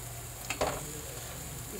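Halwa cooking in ghee over a slow flame as a spoon stirs through it, with a soft steady sizzle and a couple of brief scraping stirs close by, no talking.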